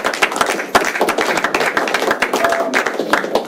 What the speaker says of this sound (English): Clap for our guys, please.